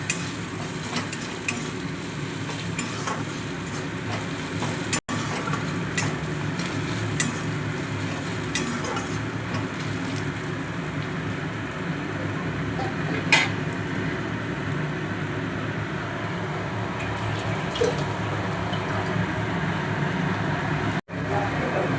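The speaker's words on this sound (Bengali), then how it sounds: "দেখুন পেঁয়াজগুলো হয়ে গেছে লাল ভাজা।" Sliced onions fry until reddish-brown in a pan for a pomfret with yogurt dish, a steady low sizzle running throughout with occasional scrapes and clinks of a spatula stirring against the metal.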